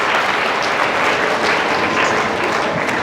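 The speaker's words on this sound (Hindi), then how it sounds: "भाई इसके लिए जोरदार ताली बजाओ" Dense, loud audience applause for a student of a senior secondary school, a continuous even roar of many hands clapping with no pauses.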